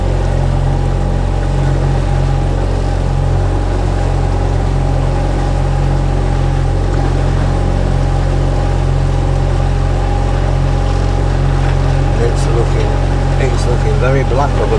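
A canal narrowboat engine held at raised revs in strong wind, a loud steady low drone with constant wind roar over it, continuous throughout.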